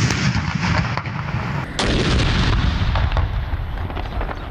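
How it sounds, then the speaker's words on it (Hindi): A 21-gun cannon salute at a ceremony in Lahore fires over a dense, roaring wash of noise. A sharp boom breaks through partway, and a crowd's din stays loud throughout. "दिन का आगाज 21 तोपों की सलामी से हुआ। फजा तोपों की घन गरज और अल्लाह अकबर के फलक शिगाफ नारों से गूंज उठी।"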